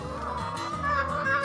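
A crowd of free-range chickens on a farm clucks and chatters steadily nearby, with overlapping calls forming a busy, continuous flock murmur.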